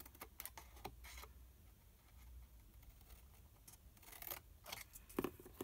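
Scissors snip and notch the edges of a paper pizza-style gift box, producing a few quiet, close, irregular cuts and rustles against a faint background, with no talking.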